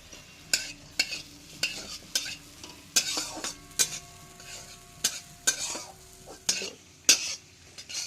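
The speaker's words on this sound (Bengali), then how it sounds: "এইবার এখানে কাজু আর কিশমিশ আছে, এটা দিয়ে দেবো, দিয়ে এটাকে ভেজে তুলবো।" Cashews and raisins fry in ghee in a pan, a soft steady sizzle broken by about a dozen sharp scrapes and knocks of a spoon stirring against the metal, close and without speech.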